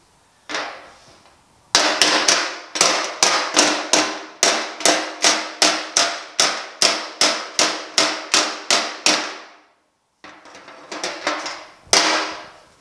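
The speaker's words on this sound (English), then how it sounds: "I'm going to use a dolly off technique where I have the dolly next to where I'm hammering" Steady hammer-on-dolly blows on the steel running board of a 1950 Chevy truck, a long run of about twenty sharp, evenly spaced metallic strikes, close and loud, pausing briefly before a few more hits.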